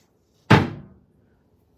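A boat hatch door without an edge guard slams shut once, a sharp close impact with a short metallic clang that rings and decays over about half a second, then quiet.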